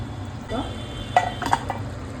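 A spoon stirs spicy mutton rassa curry in a pan, with soft scraping strokes and a couple of sharper clinks against the metal over a low sizzle.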